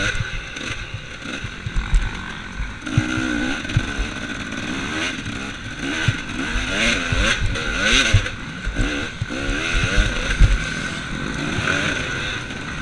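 Off-road motorcycle engine revving on a GNCC race course at Unadilla, a loud, steady buzzing drone with rising and falling pitch as the throttle opens, close and continuous, with no talking over it.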